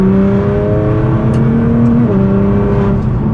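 A 2014 Nissan GT-R, a 700 hp all-wheel-drive supercar, is heard from inside the cabin while driving at speed. The engine drones loudly and steadily, with shifting tonal hums and road roar throughout.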